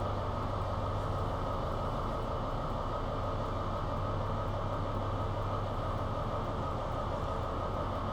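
Computer-controlled trains run in a train simulator game, giving a steady low rumble and engine drone that continues evenly, with no talk over it.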